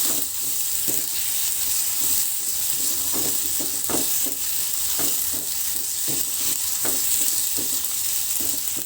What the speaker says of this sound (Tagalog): Kaya niluluto na natin yung mga ricado.